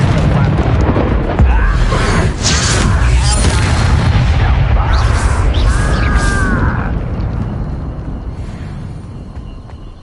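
Confringo spell blast in Hogwarts Legacy, a loud roaring explosion with crackling debris and a brief whooshing tone, rumbling heavily then slowly fading away.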